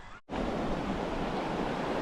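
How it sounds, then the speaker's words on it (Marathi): Water flows in a stream on a farm and gives a steady, loud, dense rush close by. It stops briefly near the start and then carries on unbroken. "हे बघा इथं किती पाणी चालू आहे."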